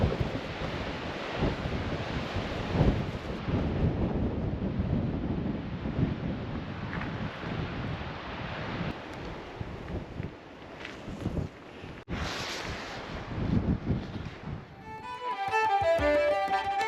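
Strong coastal wind buffets the microphone in Brittany, a steady roaring rush with gusts rising and falling throughout, ending as the gusts ease and a faint tonal pattern comes through.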